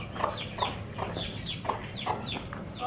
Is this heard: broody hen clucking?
yes